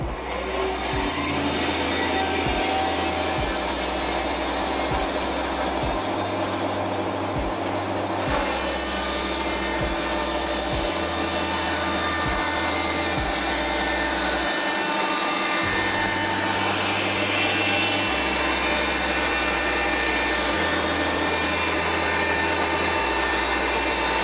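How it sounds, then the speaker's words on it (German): A Wood-Mizer LT15CLASSIC WIDE sawmill blade cuts steadily through a log, a loud continuous grinding rasp with a low droning motor underneath. "Jetzt sägen wir den Stamm auf."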